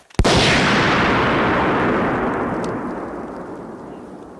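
A single sharp, powerful blast from an M18A1 Claymore mine followed by a long, rumbling roar that slowly fades over several seconds.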